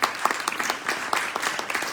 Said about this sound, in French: Je vais l'applaudir.